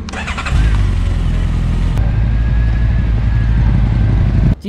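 A 2021 Honda CB1300 Super Four motorcycle engine starts and settles into a steady, close, loud low rumble that holds to the end, with no talking.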